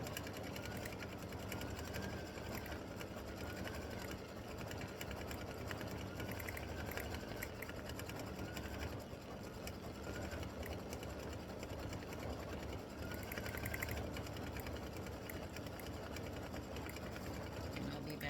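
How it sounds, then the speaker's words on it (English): An embroidery sewing machine stitches a bear's eyes on an appliqué Valentine bear design for a paper towel holder, a steady, loud mechanical hum with rapid needle rhythm running continuously throughout, with no talk over it. "All right, we're going to stitch the eyes now."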